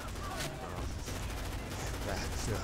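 Gunfire in the Medal of Honor Beta video game, with several sharp shots scattered through a dense, noisy battle mix at moderate loudness and nothing else standing out.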